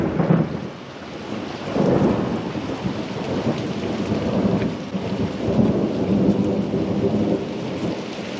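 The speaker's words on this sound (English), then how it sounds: "More rain, more lightning and thunder." Steady rain pours throughout while deep rumbles of thunder roll in waves, swelling loudly at the start and again midway.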